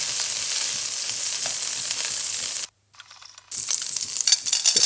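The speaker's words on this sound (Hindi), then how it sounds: "अब पैन में 1 टेबलस्पून मक्खन डालेंगे, उसको गर्म करेंगे" A tablespoon of butter heating in a pan, a steady close hiss and sizzle that cuts out briefly to near silence, then returns with a few clicks and clatter.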